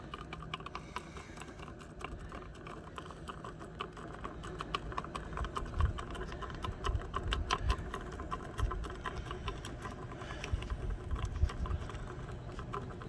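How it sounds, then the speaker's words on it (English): A magnetic stir bar spinning in a lab vessel of white wax, giving a quiet continuous mechanical whir with a rapid irregular ticking and clicking over a low hum, close and faint. "I turn on the magnetic stir bar and it starts breaking it up"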